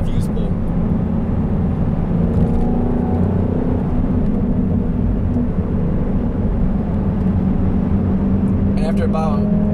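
A Chevrolet SS engine idles with a steady, deep exhaust rumble, loud and continuous throughout, with a faint whirring layered on top.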